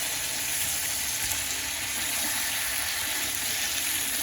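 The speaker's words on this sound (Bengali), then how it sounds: "এই যে মা মাংস রান্না করতেছে" Meat frying in a pan in a home kitchen gives a steady, loud, unbroken sizzle that runs the whole time with no talking.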